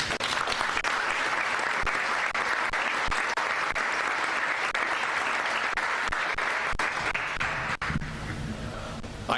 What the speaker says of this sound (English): I really appreciate applause for that whole team.